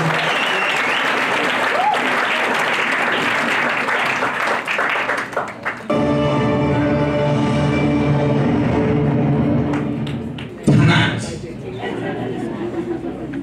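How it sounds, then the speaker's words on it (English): A crowd applauds at the Kenya Film Commission's 2019 awards event, loud dense clapping for about six seconds. It then gives way to a voice over an amplified sound system. "Wapigie makofi round of applause."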